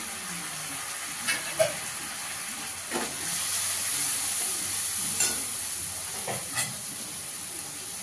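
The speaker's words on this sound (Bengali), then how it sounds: "মশলাটাকে ভালো করে কষিয়ে নিতে হবে" Ground cumin, coriander and Kashmiri chili powder fry in a pan as a steady soft sizzle and hiss, broken by a few scattered stirring scrapes from a spoon.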